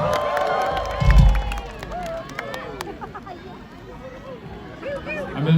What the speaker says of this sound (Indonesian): Tepuk tangan sekali lagi buat Pestapora.